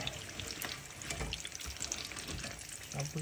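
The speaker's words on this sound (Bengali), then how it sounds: "গোল্ডেন ব্রাউন করে ভাজা নিচ্ছি" Potato fritters deep-fry in hot oil until golden brown, giving a quiet, continuous bubbling hiss with faint crackles and a brief tonal sound at the end.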